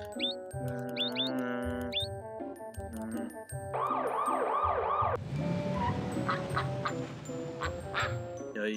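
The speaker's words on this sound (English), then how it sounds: "If an emergency vehicle approaches with its sirens going" A cartoonish two-tone emergency vehicle siren in the video game Tonka Search and Rescue 2 wails for a couple of seconds amid bright chiptune melody and honking duck quacks, then busy game sounds take over.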